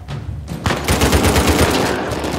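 Shotgun blasts and gunfire in Uncharted 4 during a fight in catacombs, a dense burst of loud, close booming shots after a brief quieter lead-in.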